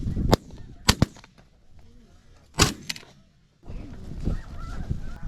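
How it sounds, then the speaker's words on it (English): Snow geese honking during a hunt: a crowd of goose calls chatters steadily, broken by several loud, sharp gunshot cracks, and the flock noise swells again near the end. "Oh, we got more birds."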